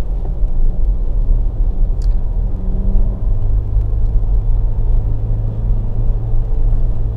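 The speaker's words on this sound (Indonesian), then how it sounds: "ini adalah kita harus berpapasan dengan truk-truk besar yang mengangkut hasil-hasil bumi" Large trucks carrying farm produce rumble past on a rural road, a steady loud low engine drone with continuous tire noise throughout.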